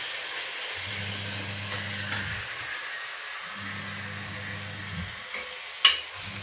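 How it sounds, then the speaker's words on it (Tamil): Chicken frying in a pan and stirred, a steady sizzle with scraping strokes of the spoon and a low humming hob tone coming and going, plus a sharp clink near the end. "நல்லா சுருள சுருள கிண்டணும்."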